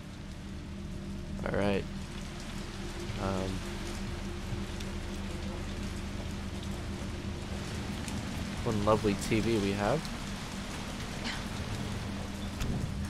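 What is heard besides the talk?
rain falling in Resident Evil 3 video game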